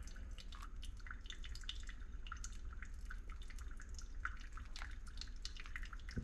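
Hot water poured slowly over coffee grounds in a pour-over filter, a faint, quiet stream of small irregular drips and patters, continuous and close against a soft background hiss.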